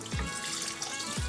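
Chicken stock pours steadily into a Dutch oven for chicken and rice, a continuous close liquid splash with no voices.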